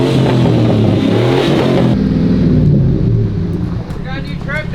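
Close, loud, steady engine rumble from a truck fitted with a blower (supercharger), with a sustained whine and some wind buffeting; near the end the engine drops away and a voice briefly speaks.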